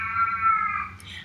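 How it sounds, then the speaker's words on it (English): A cat gives one drawn-out, clear meow at close range, with a steady low hum underneath and no talking. "That's my cat."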